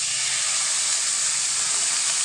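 Tempering in hot oil with mustard seeds, cumin, asafoetida and turmeric hisses and sizzles steadily as sour-sweet buttermilk is poured in, a loud, continuous broadband frying hiss with no talk.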